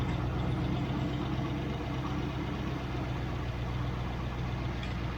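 Triumph Stag engine with Stromberg CD175 carburettors idling at about 800 rpm, a steady, continuous low rumble close by with no talk over it.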